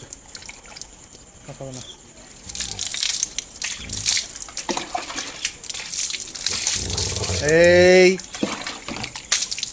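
A pet dog is bathed with water: splashing, pouring and dripping run through much of the clip under a person's talk, with a brief squeal near the end.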